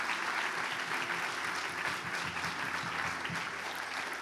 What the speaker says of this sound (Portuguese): a igreja vai aplaudir forte e glorificar